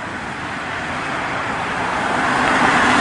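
Cars and traffic sweep past on a road under a Houston police speed check, a steady broadband roar that swells louder toward the end as a vehicle nears, with no talk.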